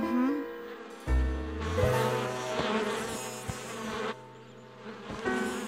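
Cartoon bees buzzing around beehives, a droning, wavering swarm sound that swells and fades, with someone speaking German over the buzzing.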